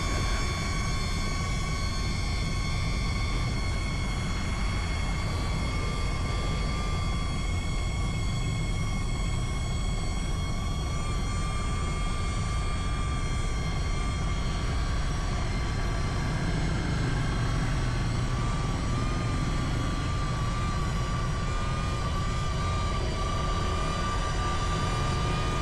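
DJI Neo drone flying outdoors, a steady continuous whine with tonal harmonics over a broadband rumble, constant and fairly close throughout with no talk.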